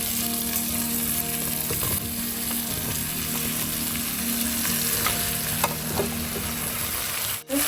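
Pieces of bottle gourd frying in a hot pan, a dense continuous sizzle with occasional faint scrapes and clicks, close up and steady throughout with no talk.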